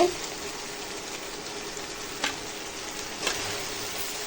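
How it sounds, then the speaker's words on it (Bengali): Spinach frying with spices in oil in a pan for a potato-spinach curry: a steady, soft sizzle throughout, with a couple of faint clinks or stirring knocks. "আর মশলার সঙ্গে পালক শাকটা ভাজবো।"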